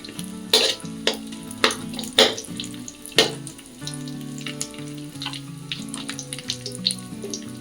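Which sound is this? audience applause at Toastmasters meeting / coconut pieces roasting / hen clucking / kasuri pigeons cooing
coconut pieces roasting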